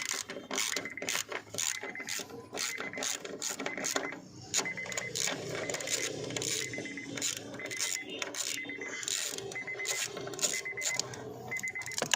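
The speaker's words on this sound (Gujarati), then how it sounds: "10નો બોલ્ટ ખોલી રહ્યા છીએ આપણે।" A 10 mm bolt is loosened on a 2007–2012 Honda Civic during hood cable replacement, with rapid ratchet clicks coming in bursts, close and crisp, separated by brief pauses.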